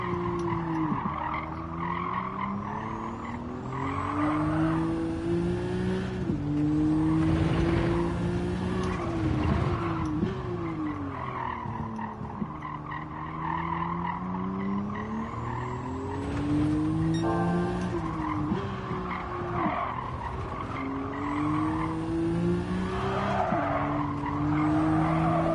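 Race car in Gran Turismo 7 braking hard with tires squealing, engine note rising and falling through repeated downshifts and skids, loud and continuous throughout.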